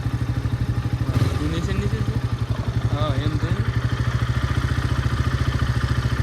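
A motorbike engine idles and revs near a temple in Diu, steady throbbing up close with a brief rise in pitch, while people talk over it.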